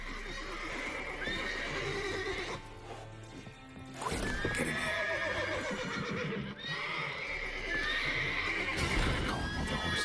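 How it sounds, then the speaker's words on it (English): Horses in the video game The Witcher 3 whinnying and snorting repeatedly with hooves clopping, loud and close, while a character briefly speaks. "Call all the horses before they wake the guards."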